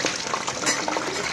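Bubbling, sizzling liquid noise as vegetables, including potato, capsicum and cauliflower, cook lightly in a pan for Sindhi kadhi; the sound is a steady, dense hiss with small pops throughout.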